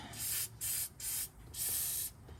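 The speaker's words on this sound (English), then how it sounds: "I'm going to spray a little bit of penetrator on here to try to loosen them up a little bit" Penetrating oil sprayed from an aerosol can onto a differential plug on a 2013 Subaru Outback, heard as four close, loud hissing bursts with short pauses between them.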